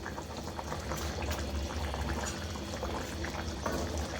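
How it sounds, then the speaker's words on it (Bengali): Prawn and cucumber curry simmers in a covered pan, a continuous bubbling and crackling boil with scattered pops, soft and close throughout. "এখন আমি ডেকে দেব 10 মিনিটের জন্য ভালো করে সিদ্ধ হওয়ার জন্য"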